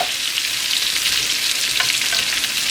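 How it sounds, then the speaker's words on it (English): Potatoes sizzle in hot oil for roasting with a loud, dense, continuous crackle close up. Faint stirring clicks run through it, and nobody speaks. "all that sizzling is just what we want"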